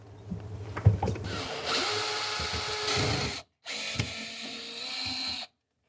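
Phillips screwdriver, likely powered, unscrewing rusty screws from a Samsung refrigerator panel: a loud continuous whirring drive for a few seconds, a short pause, then another whirring burst before stopping.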